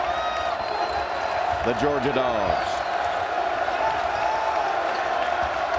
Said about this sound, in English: the crowd again trying to rally